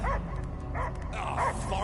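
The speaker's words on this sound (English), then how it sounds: "I hear only barking." A dog barks in the Guardians of the Galaxy video game, giving a few short yipping bow-wow barks at a steady pace, close and clear, over a low game background hum.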